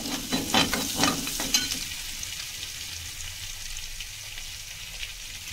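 Garlic sizzles and fries in a hot pan at the start of a red sauce for pasta, a steady close crackling hiss with a few stirring scrapes early on, then a quieter, even sizzle.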